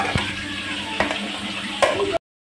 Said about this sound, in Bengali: দেখো বন্ধুরা এইভাবে কিন্তু আলুটা লাল করে ভাজতে হবে।